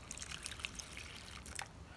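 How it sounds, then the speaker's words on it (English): Tepid water poured into a bowl for bread dough, a steady soft trickle and splash lasting a couple of seconds, close and quiet with no speech over it. "Tepid water. So that just all goes into a bowl."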